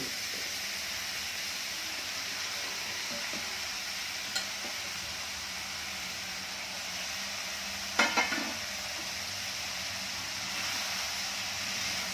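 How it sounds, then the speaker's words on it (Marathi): Mashed leftover flatbread and tomato stir-fry in a hot pan, a soft continuous sizzle with a few scraping clicks of the spatula, one sharper clatter midway, no voices. "एक दोन मिनिट हे चांगलं परतून घ्यायचं"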